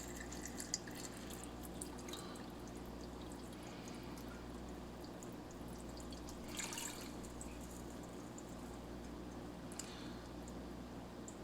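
RO water trickles slowly into an aquarium onto a piece of wood, a soft continuous pour with faint drips and gentle splashes, quiet and close, with no talking.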